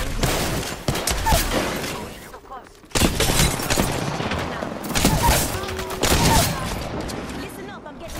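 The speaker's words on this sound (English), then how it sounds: "Listen up, I'm getting shot at." Dense, close gunfire in the Apex Legends battle royale, rapid automatic bursts and sharp cracks with glassy shield-shatter hits, cutting in and out in several loud volleys, with a voice talking over the shooting.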